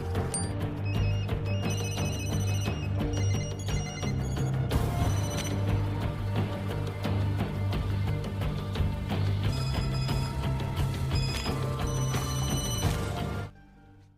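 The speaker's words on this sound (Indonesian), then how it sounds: "semua telepon pembunuh bayaran pun mendapatkan notifikasinya" Many assassins' phones ringing with notifications at once in the film John Wick 2, overlapping electronic ringtones chiming in quick repeated patterns over a dense, loud background before cutting off abruptly.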